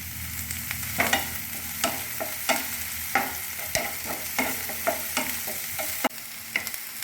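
Bread frying in a pan for chilli bread, with a continuous sizzle under repeated scrapes and knocks of a spatula on the pan, close up and moderately loud, no voices.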